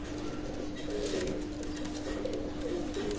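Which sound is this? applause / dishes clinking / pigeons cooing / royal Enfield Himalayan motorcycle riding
pigeons cooing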